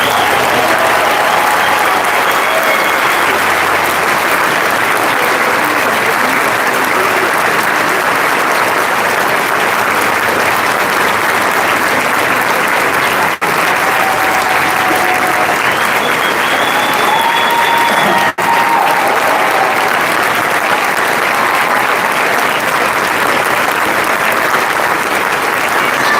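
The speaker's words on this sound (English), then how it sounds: "Well, give her a round of applause anyway." A large conference crowd at CPAC keeps up loud, continuous applause for Nikki for nearly half a minute, with occasional cheers rising over the clapping.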